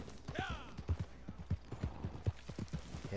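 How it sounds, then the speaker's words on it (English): A horse in the Red Dead Redemption 2 online game clip-clops along at a steady walking rhythm, with evenly spaced hoofbeats, moderately close and fairly quiet, accompanied by faint creaking tack. "Now we're going to get on our horse."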